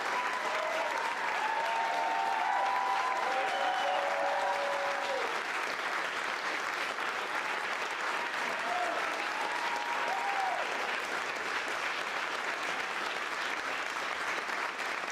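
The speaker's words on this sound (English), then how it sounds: "I'm gonna close my eyes and pretend you're clapping for me." Sustained, dense applause from an audience at a presidential nomination event for a Secretary of Labor, loud and unbroken for many seconds, with faint voices and cheers mixed in beneath the clapping.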